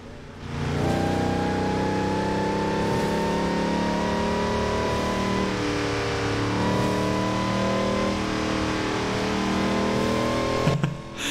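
A loud supercharged car engine in Forza Horizon 4 strains under load, its pitch climbing and dipping in long sweeps with a steady supercharger whine on top, sustained without talk.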